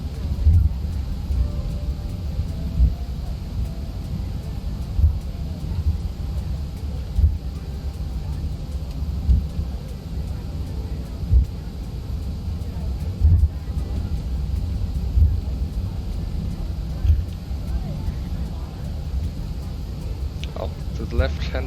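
An airliner taxis at Gatwick on an early flight to Santorini, heard from inside as a continuous low engine rumble and drone that stays steady and fairly loud, with small bumps throughout.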